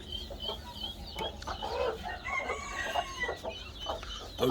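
Guinea fowl and their chicks outdoors, with a mix of clucks and high chirping calls overlapping continuously under a steady outdoor background, moderately close.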